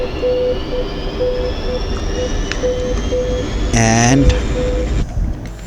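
A MiG-21 jet engine running in a flight simulator, a steady loud whine and roar held throughout, with a regular beeping tone over it and a brief rising electronic warble near the end.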